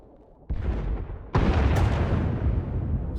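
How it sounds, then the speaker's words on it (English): Heavy bombing explosions rumble in a Star Wars video game on Ord Mantell, two deep booming blasts in close succession with a sustained roaring tail, loud and near. "Sounds like the bombing's getting closer."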